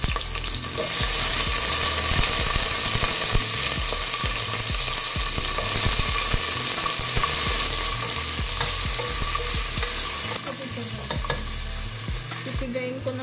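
Ginger and onion sizzle steadily in hot oil in a pan for Filipino sinigang, a loud continuous frying hiss with occasional stirring clatter, no voices.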